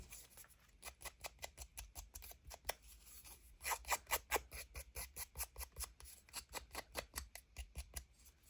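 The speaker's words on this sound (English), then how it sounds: "let's cut off the bottom." Scissors cut off the bottom of a Halloween craft page in a steady run of quick, rhythmic snips, close and clear, with no talking.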